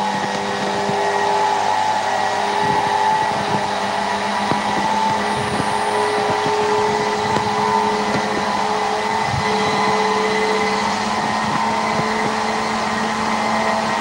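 The Alexanderson alternator's drive motor at SAQ Grimeton runs at about 2000 RPM through a gearbox, a loud, steady industrial hum with sustained tonal whine lines, continuous and unchanging.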